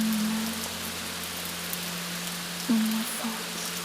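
Steady rain falls on a surface at night, a soft continuous wash of drops with a low constant hum beneath and a couple of faint brief tones, no voices.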